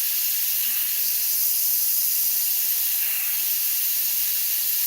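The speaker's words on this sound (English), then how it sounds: "Let's see if we can get this airbrush to behave." An airbrush sprays paint with high air pressure, producing a steady, close, continuous hiss that holds evenly throughout with no pauses.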